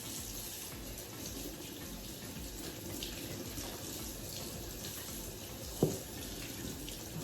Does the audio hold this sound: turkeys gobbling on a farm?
no